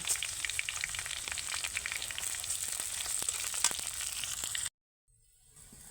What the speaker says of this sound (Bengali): আদা আর শুকনো মরিচ ভাজা হয়ে গেছে